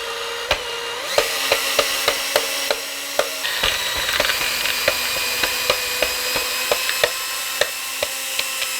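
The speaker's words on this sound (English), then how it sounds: "I'm struggling to pull this screw out. So I might have to go and get a drill." A power drill works a screw out of a secondhand Encore guitar, with repeated short whirring bursts and regular clicking ticks, close and fairly loud, no voices.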